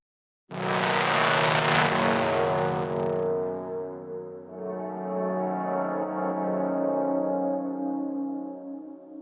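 A layered ambient sand lead synth patch built in Ableton, with stereo shifting, swells in with a bright, noisy attack that settles into a sustained, harmonically rich tone held for several seconds.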